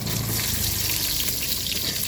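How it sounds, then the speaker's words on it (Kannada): Chopped onions frying in hot oil for chicken sukka, producing a continuous close hiss and crackle at a steady level, alone without speech. "ಈಗಿನೈತಿ ಉಳ್ಳಾಡಿ ಎಲ್ಲ ಹಾಕೋನು"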